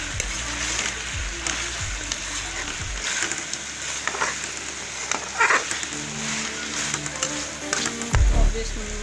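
Okra and chicken frying in a pan, a continuous hissing sizzle with crackling spatters that rise and fall, plus occasional stirring noises and a low background hum.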